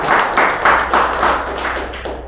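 A church congregation claps hands together during worship, giving a steady run of about eight loud, even claps that fill the room with no voices over them.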